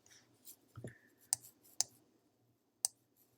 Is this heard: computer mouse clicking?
yes